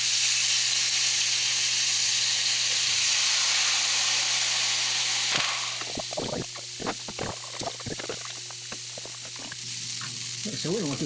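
Onions, garlic and a prepared sauce mixture sizzle and fry steadily in a pan over high heat, a continuous loud hiss that grows busier and more crackly partway through, with no talking.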